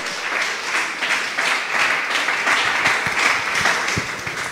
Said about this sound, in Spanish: Ese aplauso es para el Señor en esta hora.